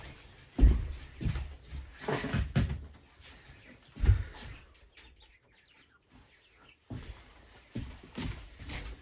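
Quail in a pen of about thirty birds chirp and cluck in short scattered bursts, with clattering handling noises and quieter gaps between calls.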